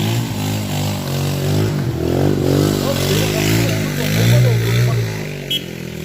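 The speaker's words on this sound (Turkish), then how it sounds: "Motor gidiyor şu an." A motorcycle engine drones close by with shifting pitch as it moves past on a town street, loud and continuous under people talking.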